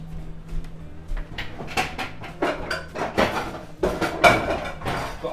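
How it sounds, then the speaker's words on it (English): A big skillet pan is handled on a kitchen hob, giving a series of close clanks, knocks and scrapes of metal that grow busier and louder toward the end. "Got a big skillet pan here"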